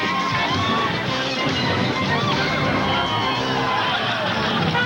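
A lively bar crowd at a New Hampshire saloon in Laconia roars and babbles while urban cowboys are thrown from a mechanical bull, dense cheering and chatter filling the room steadily throughout.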